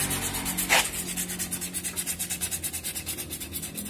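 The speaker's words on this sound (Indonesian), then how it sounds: "amplas kasar pakainya" Rhythmic back-and-forth scratching of coarse sandpaper rubbing by hand during brake servicing on a Yamaha Aerox 155 scooter, steady strokes repeating quickly and close up, with no talking.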